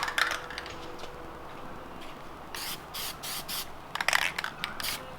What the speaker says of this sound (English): So I'm gonna spray on the newspaper first real quick and see what the pattern looks like.